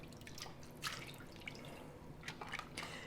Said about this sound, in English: you want to start ladling everything that's in this pot out